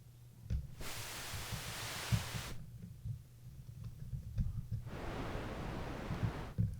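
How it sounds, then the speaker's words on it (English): White noise from a Copilot FX Arrow Airwaves pedal swells up in two long, soft hissing washes, ocean-like, separated by a quieter pause. "So this right now sounds like an ocean"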